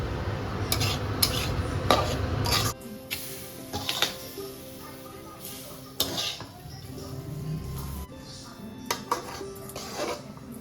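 Spices frying in a pan for sambar while a metal utensil stirs and scrapes, giving irregular clinks and scrapes over a soft sizzle, with a few quieter stretches between strokes.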